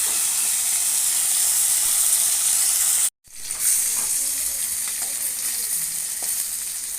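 Fish frying in a pan with a steady, loud sizzle and hiss that briefly cuts out to silence, then resumes with faint scraping underneath.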